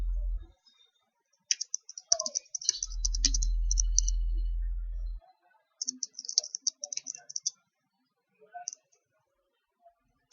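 Keystrokes on a computer keyboard as text is typed into a table cell in Dreamweaver, coming in quick bursts of close, crisp clicks separated by pauses, with a low hum partway through.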